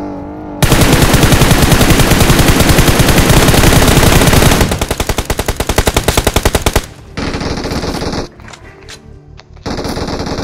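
Automatic weapon fire in the mobile battle royale game BGMI, long loud rapid bursts of gunshots in dense rhythm, then shorter bursts separated by brief pauses.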